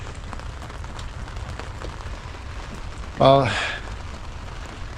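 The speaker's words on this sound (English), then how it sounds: "unexpectedly it started to rain like hell" Heavy rain falls steadily at a wild campsite in Karamea, New Zealand, a broad continuous wash under a brief spoken word, with a louder burst of drumming near the end.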